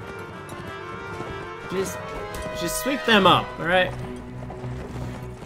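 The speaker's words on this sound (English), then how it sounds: "Can someone get these horses off the battlefield?" Horses gallop with hoofbeats across a video game battlefield, sounding beneath game music and a nearby voice that talks over the action.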